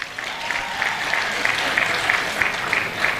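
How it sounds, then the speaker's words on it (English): Steady, dense applause from a large audience at a national cooperatives conference, with continuous clapping across the whole stretch and a faint crowd murmur underneath. "Can we clap for them?"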